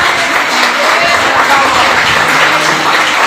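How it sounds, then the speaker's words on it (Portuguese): Steady, loud applause from a church congregation after a sermon, dense continuous clapping sustained for a few seconds with crowd voices blended underneath. "as palmas louvam ao Senhor"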